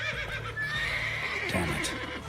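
Roach the horse neighs in The Witcher 3, a clear whinny rising over a steady game backdrop, with faint hoof thuds around it.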